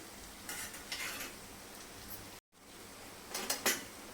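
Onion bhaji fritters frying in oil and being turned in a pan, a soft continuous sizzle with a few clinks and scrapes of a utensil, close and quiet.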